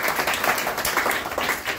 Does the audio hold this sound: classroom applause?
yes